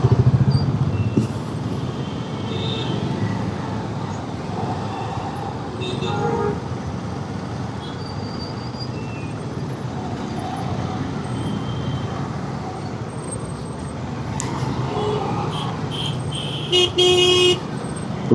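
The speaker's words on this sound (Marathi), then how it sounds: "बघा, आता इथे ट्रॅफिक लागेल" Busy city road traffic with engines droning steadily nearby and car horns tooting several times, louder bursts of honking toward the end, a voice talking briefly underneath.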